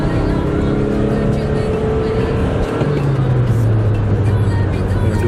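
A Honda Accord in sport mode accelerates on a slippery, snowy road on all-season tires, the engine droning steadily from inside the cabin, its pitch rising and then dropping with a gear change.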